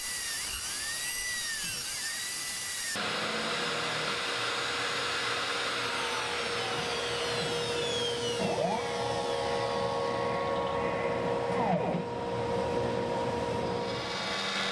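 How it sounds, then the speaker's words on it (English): A 1/2 inch mill bit runs steadily across the top of a segmented wooden bowl of maple, pear, cherry and walnut, giving a loud, continuous high whine with shifting tones and no talk. "using a 1/2 inch mill bit to actually run over the top"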